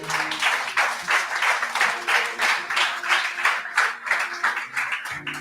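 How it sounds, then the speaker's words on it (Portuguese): A church congregation applauds during a Portuguese-language sermon, a steady wash of many hands clapping together at close range, sustained for several seconds before fading at the end. "Dê um aplauso a Jesus."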